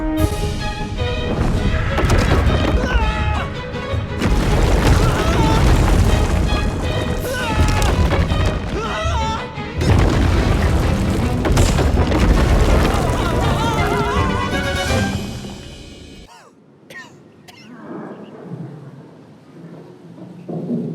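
A bomb explosion in the game Little Orpheus brings long loud rumbling booms and crashing debris that fill most of the stretch, settling into quieter scattered thuds toward the end.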